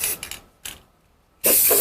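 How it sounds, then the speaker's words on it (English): A few quick hissing bursts of clear coat spray paint, then a louder sustained spray hiss up close. "I'm just going to hit them really quick with a clear coat spray paint"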